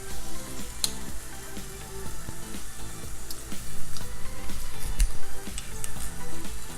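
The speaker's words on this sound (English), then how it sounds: "let the onion cook for a minute or two in the oil" Chopped onion sizzles and fries in hot oil in a pan, a steady crackling hiss with occasional small pops, heard alone without talk.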